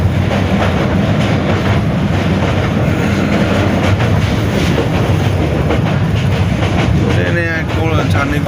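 A passenger train on the Sylhet to Dhaka line rumbles loudly and continuously from inside the carriage, with rhythmic wheel clatter and a brief squeal near the end.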